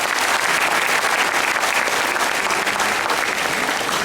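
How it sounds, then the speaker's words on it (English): Large audience applauding the Chief Minister at a women's science congress, a thick, continuous wall of clapping that stays loud and even from start to finish. "Please give a big applause."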